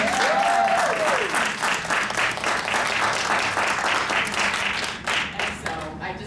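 An audience at a writing and storytelling workshop event for older adults gives a round of applause. Steady, dense clapping fills the room from start to finish, and a voice speaks briefly over it.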